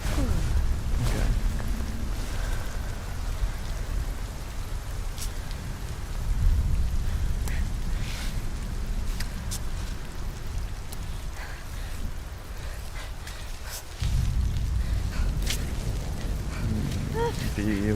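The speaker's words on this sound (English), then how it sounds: "The rain is not making this easy for us." Steady rain falls and patters in the climbing video game Cairn, a continuous wash of downpour with occasional low rumbles, heard under people talking.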